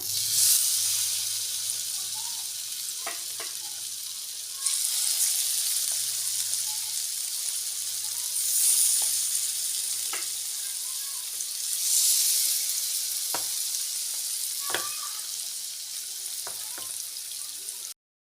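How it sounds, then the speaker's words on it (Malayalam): Sole fish frying in coconut oil in a frying pan over a low flame, giving a steady close sizzle and hiss with occasional faint pops and clinks. "അതിലേക്ക് രണ്ട് ടേബിൾ സ്പൂൺ അളവിൽ വെളിച്ചെണ്ണ ഒഴിച്ച് കൊടുത്ത് ഇനി നമുക്ക് നമ്മുടെ മീനൊന്ന് വറുത്തെടുക്കാം"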